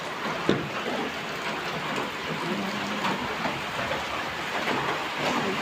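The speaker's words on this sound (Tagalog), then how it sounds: "Umuulan." Steady rain hiss fills the air, a dense even wash with faint scattered ticks, no voices.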